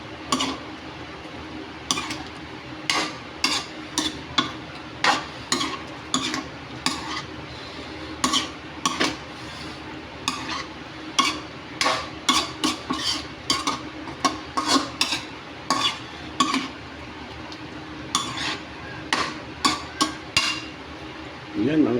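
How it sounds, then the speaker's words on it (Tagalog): A metal utensil stirs spicy pork adobo in a cooking pot, scraping and clinking against the sides in an irregular rhythm of sharp knocks, close and moderately loud with faint speech in places. "Hahaluin natin siya ngayon."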